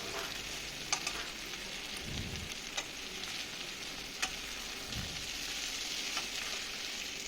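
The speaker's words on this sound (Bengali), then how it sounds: "তো দেখো এগুলোকে আমি ভালো করে একটু কষিয়ে নিচ্ছি।" Marinated chicken and mushrooms frying for chilli chicken, an even, moderately loud sizzle throughout with scattered clicks and two low scraping stirs of the spatula, no one speaking.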